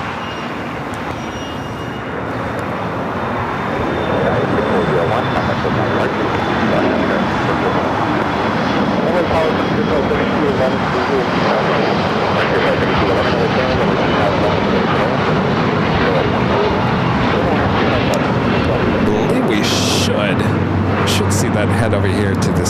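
An airliner takes off from runway 25 Right at LAX, its broad jet roar building over the first few seconds and then holding loud and steady, with a brief rattle near the end.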